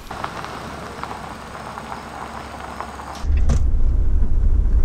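A car pulls in, its tyres and body noise quiet at first, then a deep low rumble swells and holds near the end.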